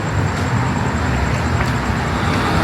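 Steady street traffic at a night market in Da Nang, with vehicles rolling past in a continuous, moderately loud roadway wash and no talking over it.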